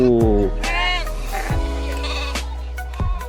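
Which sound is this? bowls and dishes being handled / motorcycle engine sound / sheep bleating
sheep bleating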